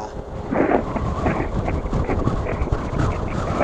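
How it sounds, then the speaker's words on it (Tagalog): Strong wind gusting at a roadside stop among pine trees in Santa Maria, Laguna, buffeting the microphone with a loud, continuous low roar and rumble. "Sobrang lakas ng hangin."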